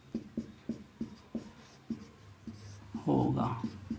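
Pen writing on paper while a maths proof is worked out, with a regular series of close scratchy strokes and taps, and then a voice speaking near the end.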